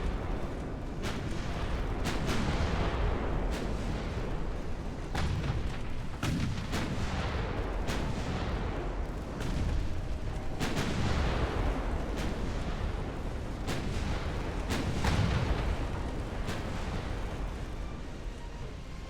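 Small-caliber naval guns firing high-explosive shells in a battle in Ultimate Admiral: Dreadnoughts, with rapid, repeated booming reports over a constant rumbling din, loud and steady throughout.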